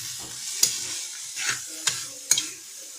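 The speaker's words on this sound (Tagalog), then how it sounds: "And simmer it." Chicken empanada filling simmers in a pan with a continuous soft sizzle, and a few sharp clicks and scrapes come from a spoon stirring it. No one speaks.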